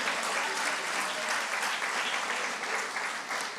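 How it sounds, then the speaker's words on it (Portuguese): A church congregation applauds loudly, a dense, sustained roar of clapping that fills the space at an even level from start to finish. "Se vai aplaudir, então aplauda bem forte"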